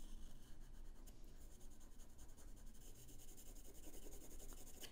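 A graphite pencil drawing on paper, a steady close scratching and rubbing of the lead across the sheet that continues without pause throughout, with no talking.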